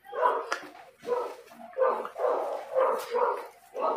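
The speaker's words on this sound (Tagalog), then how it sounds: "Pasensya po sa ingay ng aso." A dog barks continuously and close by in rapid, overlapping yaps and whimpering barks, loud and uninterrupted across the short stretch, heard during a mukbang meal of pork adobo and fried fish.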